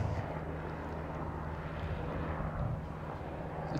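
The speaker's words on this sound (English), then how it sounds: "You can wait if you want that plane to shift." A fixed-wing airplane passes overhead above an outdoor sporting clay shooting ground, a continuous low broad engine rumble at steady volume.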